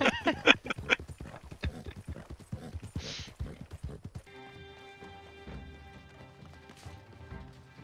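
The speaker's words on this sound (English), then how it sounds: "That's why I brought my horse up." Horse hooves in a 1800s-era video game: a quick, close run of clopping hoof beats with a sharp crash partway through, then the galloping fades into a quieter stretch of steady tonal game ambience.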